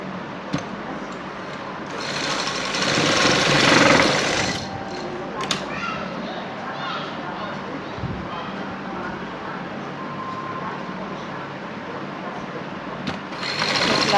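A sewing machine runs in steady stretches while stitching a neckline on a garment, its mechanical whir close and fairly loud with brief pauses and some background noise.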